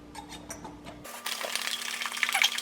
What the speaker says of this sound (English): I like to shake until it sounds like the ice is all gone